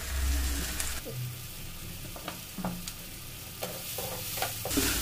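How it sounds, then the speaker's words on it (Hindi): Tomatoes frying and being stirred in a pan for kofta curry, a steady sizzle with scraping stir strokes at intervals, close and alone. "टमाटर को अच्छी तरह भूनेंगे, इसी में नमक डाल देंगे"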